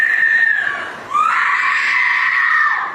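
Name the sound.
cousin screaming by the pool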